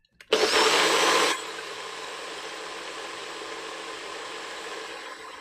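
An older kitchen blender blending peanut butter coconut milk ice cream base roars loudly for about a second, then falls away to a steady, quieter motor whir that carries on alone.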